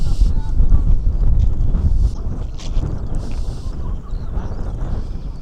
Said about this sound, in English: And it is windy, and I have got the muffler on, and I might have to overdub this.